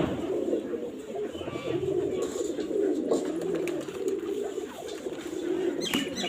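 Pigeons cooing inside a coop, a continuous low murmuring of several birds close by, with background noise and a few faint sharp sounds.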